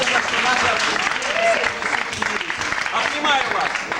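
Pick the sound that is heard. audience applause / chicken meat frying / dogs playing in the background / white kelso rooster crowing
audience applause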